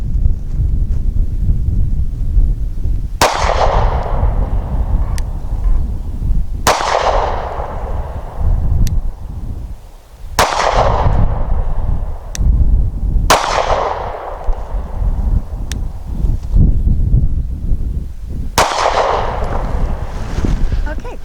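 Sig P365 pistol firing Norma Hexagon 124 grain hollow points outdoors, six sharp loud shots spaced a few seconds apart, each with a ringing decay, over steady wind noise on the microphone.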